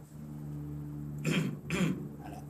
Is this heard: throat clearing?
yes